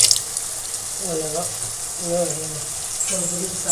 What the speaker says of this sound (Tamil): இப்போ நம்ம கரைச்சி வச்சிருக்கிற புளியும் நம்ம வந்து ஆட் பண்ணிடலாம் சாம்பாரோட